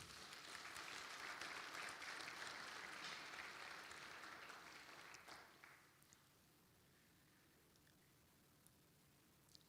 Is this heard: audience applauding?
yes